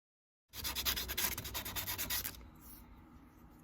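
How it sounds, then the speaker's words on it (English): Sandpaper rubbing briskly over a handmade wooden jerkbait lure, about two seconds of close, rhythmic back-and-forth scratching strokes that then stop, leaving a faint hiss. "I'm just going to add this, sand it off"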